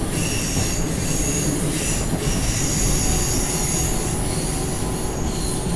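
A train in the Train Simulator 2018 game, running on the Mittenwaldbahn, rolls along with steady wheel squeal and rail rumble, loud and continuous throughout with no talk.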